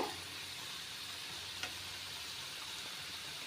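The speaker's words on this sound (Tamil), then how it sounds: "மீடியம் ஃப்ளேமில் வச்சு பொரிச்சு எடுத்துக்கோங்க" A festive snack deep-frying in hot oil over a medium flame, giving a steady, soft sizzle with a faint bubbling hiss that runs evenly throughout, with one brief light clink partway through.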